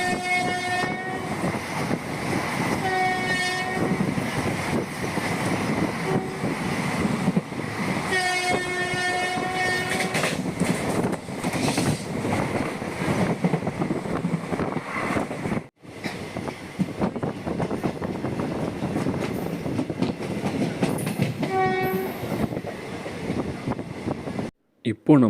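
A passenger train rumbles steadily into Kovilpatti station in Thoothukudi district, India, its horn sounding in several long blasts, with voices talking over the rolling noise.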